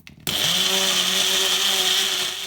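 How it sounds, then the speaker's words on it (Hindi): Electric chopper whirring hard as it chops salted chutney ingredients with a little water, starting abruptly and running as a loud steady motor drone for about two seconds. "अब इसको हम चॉप कर लेते हैं।"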